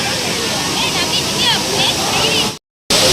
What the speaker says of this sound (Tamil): அதனால் அருவியும் கொஞ்சம் ஃபால்ஸு கூடின மாதிரி இருக்குது